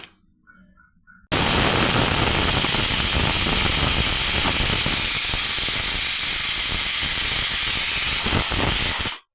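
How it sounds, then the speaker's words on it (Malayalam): A pressure cooker of beef curry vents a loud, steady rush of hissing steam that starts abruptly after a brief quiet moment and runs unbroken for about eight seconds before cutting off. "കുക്കറിൽ ഒരു ഏഴ് വിസിലടിപ്പിക്കുക"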